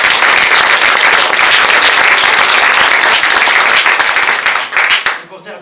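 Theatre audience at a staging of Don Quixote applauding loudly, a dense continuous wave of many hands clapping that runs for several seconds and then tapers off quickly, with a voice heard briefly under the applause.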